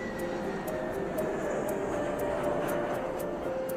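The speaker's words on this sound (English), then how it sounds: "Just because that plane going over the top right now." An airplane passes overhead above a barn being renovated, a steady, loud, continuous engine drone that holds level throughout with no voices.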